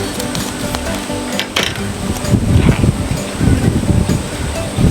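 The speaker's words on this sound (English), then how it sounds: "It's a little bit windy today." Steady outdoor wind buffeting the microphone in a garden, a constant rumbling roar with gusts swelling louder partway through.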